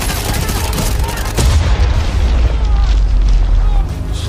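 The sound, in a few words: missile explosion in the film Sniper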